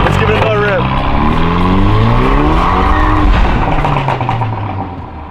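A car with a 1.8T engine accelerates hard, its engine note rising through the revs in loud sweeping pulls with gear changes, fading slightly as it ends; a voice is also heard.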